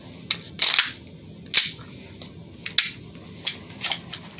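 A gas blowback replica pistol fired several times, sharp snappy cracks with a metallic slide clack, spaced irregularly about a second apart, close and fairly loud with quiet room background between shots.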